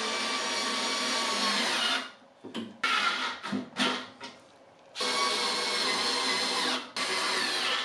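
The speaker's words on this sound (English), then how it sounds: "So I pre-drilled some holes and used some of my own screws that I had kicking around." A power drill bores pilot holes and drives screws into the legs of a salvaged curbside furniture piece: long steady whirring runs broken by a cluster of short stop-start bursts, loud and close.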